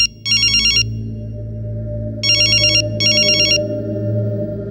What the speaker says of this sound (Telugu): ఫోన్ చేసి కనుకో.